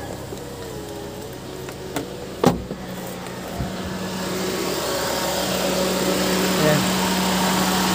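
A car engine idles smoothly and without belt noise after its tensioner was replaced, a steady close hum that rises slightly over the clip, with a few clicks and a brief spoken word early on.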